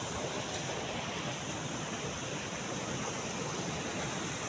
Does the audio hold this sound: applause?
no